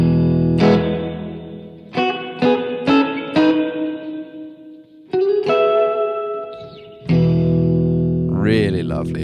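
Electric guitar through a Pulsar Primavera spring reverb pedal, distinct plucked notes and strummed chords each ringing out into a wet, lingering spring tail, close and loud, ending with a wobbling drip-like reverb splash.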